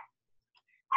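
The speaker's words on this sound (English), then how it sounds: "Do you hear the background of the little doggy barking outside?" A small dog barks outside at a visitor, two short sharp yips in the distance separated by near silence, the second slightly louder.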